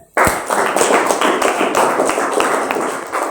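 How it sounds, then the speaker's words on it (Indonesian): A classroom group claps after a student presentation, a loud, close patter of many hands that starts abruptly and runs steadily with no voices. "Oke, beri tepuk tangan."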